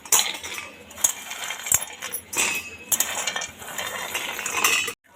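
Roasted coconut and peanuts for peanut chutney tip into a mixer jar with bright clinks and rattles of pieces against metal, several sharp hits over a steady clatter, close up and alone.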